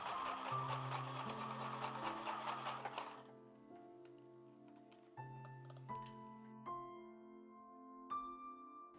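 Sewing machine stitching a hexagon patchwork shoulder bag, a steady rapid needle rattle for about three seconds, then quieter mechanical clicks and whirring as it slows and restarts, close and fairly quiet.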